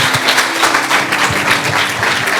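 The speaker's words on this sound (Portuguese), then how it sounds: "Louve ao Senhor com as suas palmas." A church congregation on its feet claps hands together in praise, producing a dense, steady patter of many hands close by, over a faint sustained musical tone.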